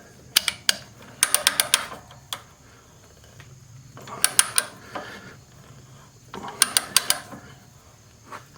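A ratcheting pipe threader works threads onto black iron pipe held in a vise: bursts of sharp metallic clicks arrive in three clusters of rapid ratchet strokes, separated by quieter pauses, close and fairly loud.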